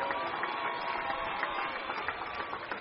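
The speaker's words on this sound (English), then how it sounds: "I think he deserves another round of applause" Audience at a graduation ceremony giving a round of applause after a commencement speech, a steady wash of clapping heard at a distance through a muffled, band-limited recording, fairly faint and even throughout.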